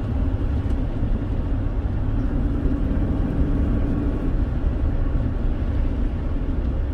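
A 2003 GM truck with a 4L60E transmission drives in four-wheel drive, giving a steady, loud low rumble of engine and road noise from inside the cab, with no pauses.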